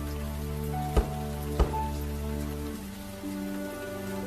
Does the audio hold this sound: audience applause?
no